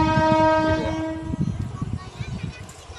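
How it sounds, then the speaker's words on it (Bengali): A horn sounds near the start, then the rumble and rhythmic clatter of a passing electric train, with faint voices underneath. "Electric train."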